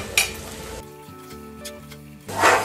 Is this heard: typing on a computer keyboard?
no